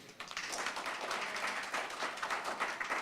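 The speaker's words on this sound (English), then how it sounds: "give Brett and the Unbank team a round of applause." Conference audience applauding a team after pitches, a short, fairly faint stretch of steady clapping from a crowd.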